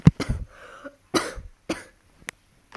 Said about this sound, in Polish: Mam trochę kaszel, ale to nic.